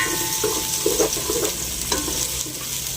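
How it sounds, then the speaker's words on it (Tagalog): Onion and garlic sauté in a pan for pork menudo, giving a continuous close sizzle with a few louder bursts of stirring and spatula contact, and no talking. "Kaya mag-isa na tayo ng sibuyas at bawang."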